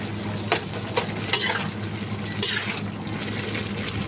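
A spoon stirring chili into string beans simmering in a pan, with a steady sizzle and bubbling throughout, broken by a few sharp scraping strokes and clinks close by.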